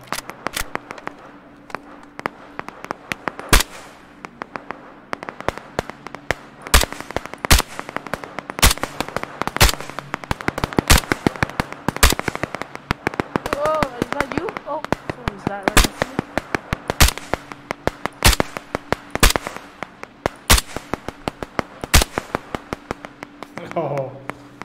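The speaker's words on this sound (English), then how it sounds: "It's so hard to shoot with the sniper." Sniper rifle shots in the video game Operation Harsh Doorstop ring out as sharp, loud cracks, many spaced at irregular intervals throughout, over a steady low hum, with people talking between them.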